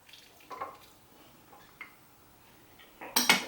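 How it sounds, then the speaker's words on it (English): Thumbprint cookie dough with vanilla is stirred in a bowl, heard as quiet, scattered clinks and scrapes of a utensil against the bowl, ending in a brief louder scraping burst. "continue to mix until it's formed that nice dough"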